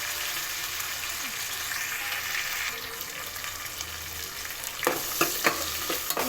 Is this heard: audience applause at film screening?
no